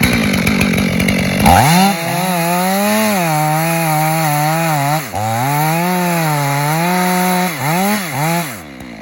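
A chainsaw roars loud and close as its bar and chain bite into a tree trunk during felling, the engine pitch dipping under load and recovering in a steady, continuous cut.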